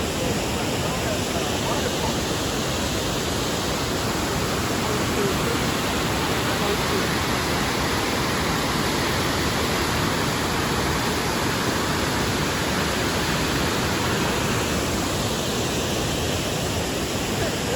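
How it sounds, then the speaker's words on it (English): Steady, dense rushing of water from a waterfall, broad and unbroken throughout, close and loud with no other sounds standing out. "I should make like one of those 10-hour waterfall relaxation videos from this very spot"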